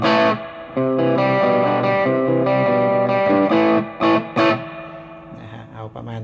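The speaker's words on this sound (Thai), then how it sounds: "เสียงที่ผมชอบเลยก็คือเสียงแตกนะครับไม่ใช่เสียงคลีน" An electric guitar plays through a Marshall G15R amp with heavy distortion and chorus. Sustained chords ring out loud and close, and a few short stabs follow at the end.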